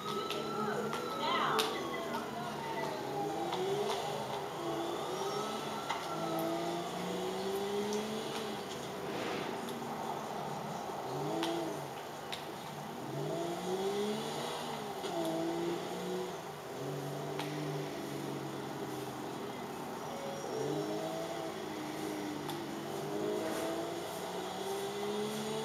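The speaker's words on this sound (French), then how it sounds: "Donc je roule en Infernus" An Infernus sports car drives in GTA IV on PS3 around a skate park, its engine revving up and down in repeated sweeping waves at a steady, moderate level throughout.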